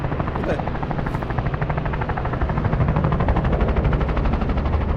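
Aircraft engine in the VR battle royale game Virtual Battlegrounds, a loud continuous rotor-like thrumming drone with a fast pulsing beat, steady and close throughout.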